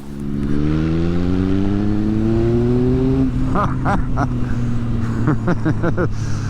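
A 2016 Triumph Speed Triple R motorcycle engine drones loudly, its pitch climbing as it revs, then a rough, throaty rumble from a loud exhaust with sharp pops; a voice speaks briefly over it.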